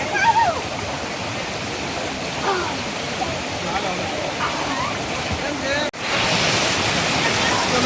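Waterfall and stream at Jatashankar in Junagadh roar as a loud, continuous broadband rush, briefly cut off near the end before resuming, with people talking faintly underneath.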